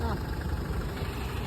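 Toyota Innova diesel engine with a faulty injector idling close by, a rough, steady low rumble with an uneven knocking pulse.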